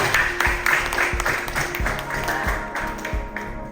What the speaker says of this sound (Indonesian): Ya, tepuk tangan ya